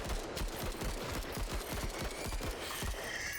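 A squad fires weapons at aliens in the turn-based tactical game Menace, heard as a rapid, rhythmic string of punchy shots. The burst repeats steadily and close for about three seconds, then tapers into a noisy tail.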